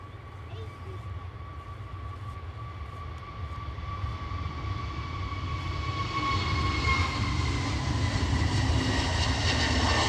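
An Aer Lingus airliner passes at Edinburgh Airport, a broad jet roar that builds steadily over several seconds with a whining engine tone rising on top, heard from a spotting position outdoors.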